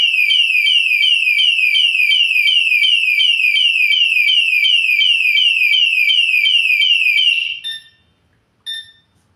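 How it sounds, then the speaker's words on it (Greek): A Moto Alarm anti-theft alarm on a Benelli TRK 702 X motorcycle blares a loud, rapidly repeating electronic siren tone, then cuts off and gives one more short chirp after a pause. "Σε κάθε παράκαμψη του διακόπτη προσπάθεια παράκαμψη του διακόπτη θα έχουμε ένα αποτρεπτικό συναγερμό"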